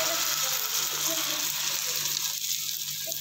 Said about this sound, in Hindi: ये चूल्हा जल गया है और ऑलिव ऑयल मैंने इस पर डाल दिया है, और अब इस पर हम डालेंगे अंडा